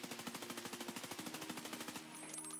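A rifle fired from a standing position in Escape from Tarkov lets off a rapid, evenly spaced automatic stream of close, loud shots for about two seconds before cutting off, with no talk.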